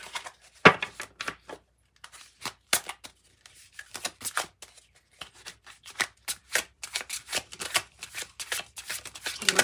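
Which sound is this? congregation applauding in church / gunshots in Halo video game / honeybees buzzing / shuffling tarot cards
shuffling tarot cards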